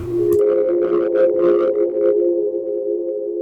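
A sustained synth pad chord drones evenly, with a brief soft texture flickering above it early on before the pad rings on alone, washed in reverb.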